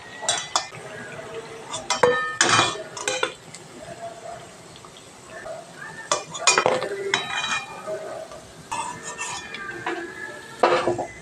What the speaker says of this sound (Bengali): এই ঠেকুয়াগুলো ভাজা হয়ে গেছে, আমি তুলে নিচ্ছি।